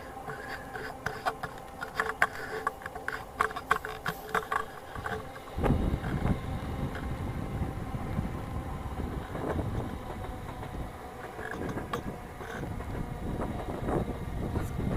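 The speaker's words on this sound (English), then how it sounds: "There's a train going by." A train going by near a tent campsite, a low continuous rumble that swells in about a third of the way through and holds, with wind buffeting the microphone.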